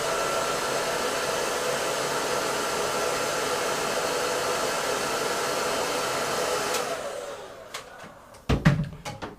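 A hair dryer blows hot air onto a tin of mustache wax, a steady, close, loud rushing roar that runs for about seven seconds before switching off, followed by a few light knocks and clicks as the tin is handled.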